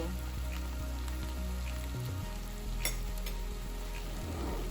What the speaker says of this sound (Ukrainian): На сковорідці розтоплюємо масло і додаємо порізані яблука.